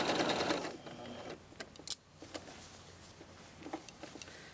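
A sewing machine stitching jacket neck seams, a quick burst of fast, even needle chatter at the start, then quieter handling noises and small clicks as the fabric is moved.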